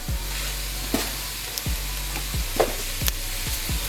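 Ingredients for turkey noodle soup sizzle steadily in a pot while being stirred, with a continuous frying hiss and several soft scraping knocks of the spoon spaced through it, and no talking.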